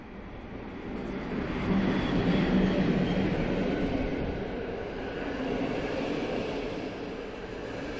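A train hauled by an EU07 electric locomotive rumbles steadily past a station with a broad, continuous roar that swells slightly in the middle, close and loud, with no talking.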